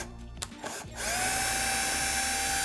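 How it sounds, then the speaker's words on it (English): Power drill boring pilot holes for screws into a wooden sign, starting with a few short bursts and then settling into a loud, steady whine that runs to the end. "I'm gonna pre-drill these, but I gotta be really careful that I don't go all the way through"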